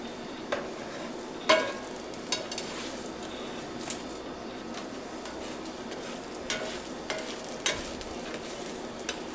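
Shrimp fried rice being stirred in a hot pan, a continuous sizzle punctuated by sharp metallic scrapes and taps of a utensil against the pan at irregular intervals, close and with no talk.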